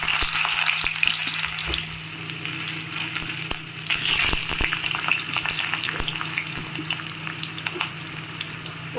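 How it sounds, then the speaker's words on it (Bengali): Potato pieces sizzle and crackle in hot oil in a kadai, a loud, steady frying hiss with occasional stirring clinks and scrapes, and no voices. "তেলটা হয়ে গেছে, কড়াতে দিয়ে দিয়েছি, এবার আলুগুলো দিয়ে দিচ্ছি।"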